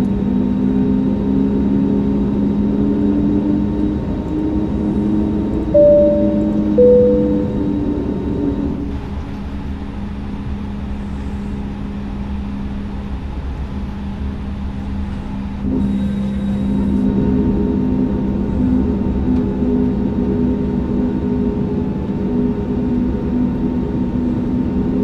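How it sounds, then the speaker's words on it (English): A passenger jet on a short hop from Lihue to Honolulu, heard from the cabin as a steady loud engine roar through the takeoff run, with a brief dip in the middle and a thin whine on top. "We're prepared for takeoff."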